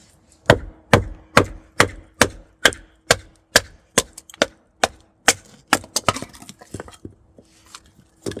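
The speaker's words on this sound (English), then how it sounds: "you can definitely do batoning with this knife" A Terävä Jääkäripuukko 140 carbon steel knife is batoned through wood in a steady run of about fifteen sharp, loud knocks, evenly spaced at first and then quickening into smaller, splintering taps near the end, with no talking.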